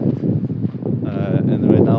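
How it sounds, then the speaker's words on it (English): Wind blows through falling snow beside a frozen lake in Krakow. It makes a steady broadband rush with gusty swells and microphone buffeting, and a person talks over it throughout. "And right now it's like a windy snow."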